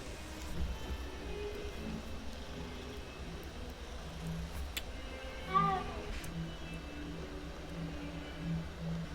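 A cat meows in Hogwarts Legacy, a short faint mew rising over a quiet game ambience of low hum and soft background tones, heard alone without talk.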